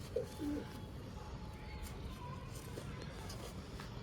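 A single brief coo from a female pigeon sounds near the start, then only steady low background noise follows.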